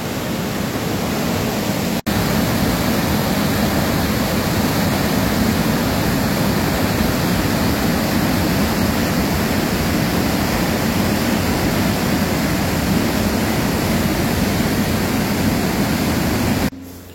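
A powerful torrent roars with steady, dense rushing water, loud and close, unbroken apart from a brief dropout near the start and a cut at the end.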